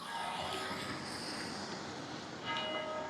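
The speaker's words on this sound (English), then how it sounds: "You can hear the church bells ringing." Church bells ring at a distance in a town center at 7 o'clock, their sustained metallic tones hanging over a steady wash of background noise.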